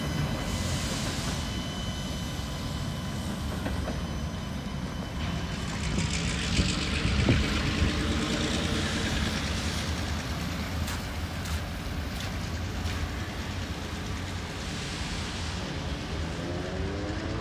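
Cincinnati Eastern Railroad freight train locomotive growling up Batavia Hill, a steady deep engine drone heard from outdoors at a moderate distance, holding a sustained rumble with slight swells and no voices.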